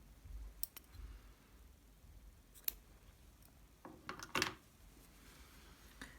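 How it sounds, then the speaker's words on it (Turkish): Scissors snip white yarn during Tunisian crochet work, giving a few faint, sharp clicks and snips spread across a quiet background, with one slightly louder cluster near the end. "Ve ipimi burada kesiyorum."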